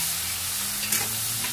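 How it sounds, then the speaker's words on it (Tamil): Onions sautéing in a pan for a chicken gravy, stirred steadily, give a close, continuous sizzle with scraping stir sounds and no voices. "நல்லா கிண்டுங்க, நல்லா வதக்குங்க."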